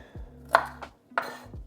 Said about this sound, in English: my chopping skills.